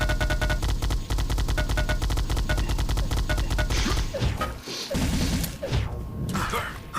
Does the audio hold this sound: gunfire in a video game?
yes